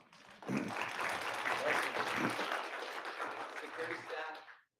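A conference audience applauds the security staff and event volunteers, a dense round of clapping that starts abruptly, holds steady for several seconds and then cuts off, fairly faint overall.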